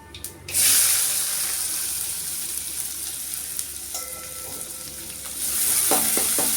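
Fennel seeds, stone flower and small shallots dropped into hot oil, a loud hissing sizzle that surges, settles into a steady fry, then swells again as more goes in, with a brief clatter of utensils.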